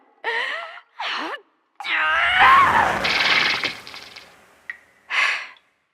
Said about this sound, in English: Sorry about that yell.